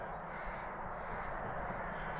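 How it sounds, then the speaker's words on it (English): Crows cawing as a flock flies in to a shooting spot, harsh repeated caws from many birds blending into a steady, fairly distant racket with no talk. "You can see there are birds coming in everywhere."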